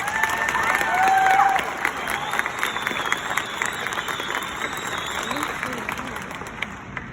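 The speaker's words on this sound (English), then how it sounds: "I just want to start off with an applause for the class sitting right in front of me" A seated crowd at a graduation ceremony breaks into loud applause for the graduating class, sustained clapping mixed with cheers and whoops, swelling early then holding steady while voices call out.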